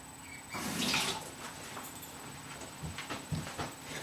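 Tap water running into a bathroom sink while a paper towel is wetted, a faint steady rush that builds to a stronger splash early on and then eases into softer trickling with a few small knocks.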